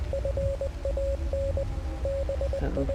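Rhythmic Morse code in Hell Is Us: clean mid-pitched beeps in quick dots and longer dashes, with a short pause midway, sounding over persistent static and rumbling background noise.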